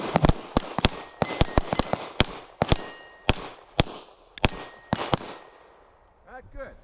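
Pistol double-tap gunshots fired by practicing teams, sharp cracks in quick pairs and clusters with rapid spacing, loud and reverberant outdoors, faint voices between bursts and a quieter tail at the end.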